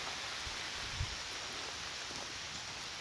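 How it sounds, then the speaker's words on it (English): Rain falls steadily outside by a front porch as a dense, even hiss, with a faint low thump partway through and no talking. "Ooh, it's really raining."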